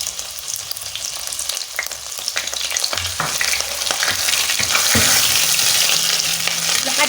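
Onions frying in butter and a little oil in a pan, a loud continuous sizzle that grows denser partway through, with scraping stirs and occasional pops, no talking.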